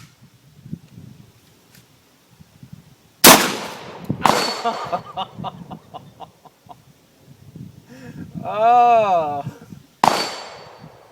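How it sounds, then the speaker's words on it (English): A Saiga shotgun fires at a bleeding zombie target outdoors: three sharp, loud blasts spaced several seconds apart, with a brief exclamation and warbling, cluck-like sounds in between. "So I'm going to finish him off Saiga style."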